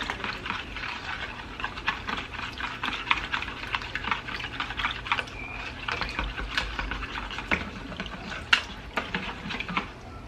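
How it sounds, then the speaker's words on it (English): Muffin batter ingredients whisked together in a bowl by hand, a steady busy scraping and tapping of the whisk against the bowl with occasional sharper clinks, continuous and close with no talk. "Then I'm gonna just whisk this all together"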